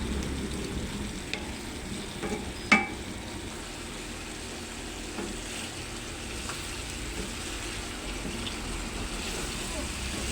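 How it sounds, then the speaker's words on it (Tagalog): Sliced potatoes added to a pan of chicken liver adobo sautéing, giving a soft continuous sizzle with a sharp clatter near the start and faint stirring, while a voice talks over it. "dala na natin sa gisa ang ating sliced potatoes"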